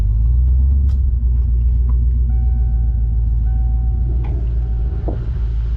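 A 1987 Mustang GT convertible rolls slowly with a loud, continuous low engine rumble and some faint squeaks and clunks from the chassis.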